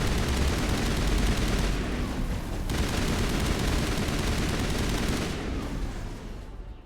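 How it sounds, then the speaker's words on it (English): Sustained automatic gunfire from the Mass Effect video game, dense rattling bursts that roll on almost without pause, loud and close throughout before easing slightly at the end. "Suppressing fire."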